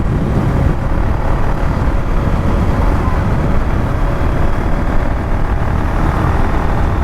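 A Suzuki Gixxer motorcycle, still in its break-in period after a cylinder change, runs at speed on a highway; a constant engine drone is buried under loud rushing wind noise throughout.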